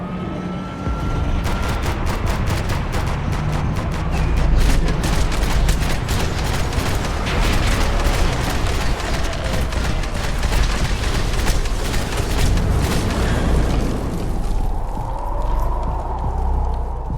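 Sustained heavy gunfire in the video game Max Payne 3, dense rapid shots with booming low end that continue nearly without pause and fade slightly toward the end.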